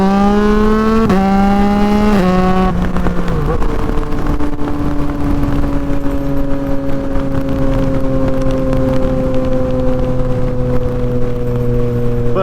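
A Yamaha MT-09 motorcycle engine with an aftermarket exhaust and tune revs hard with a raspy, loud exhaust note, then drops to a steady droning idle that holds for several seconds.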